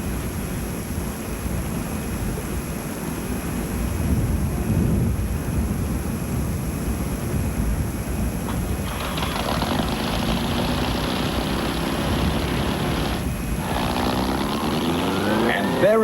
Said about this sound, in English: the start cart is driven up to the Screaming Eagle to fire up that powerful jet engine